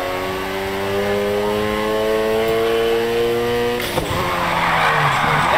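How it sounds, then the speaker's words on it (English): A car drifts and skids in Need for Speed Heat, a loud engine revving with rising harmonic tones and tire squeal, shifting abruptly near the end as the slide intensifies. "First up, let's hit a basic drift. Remember, slam on the gas and steer."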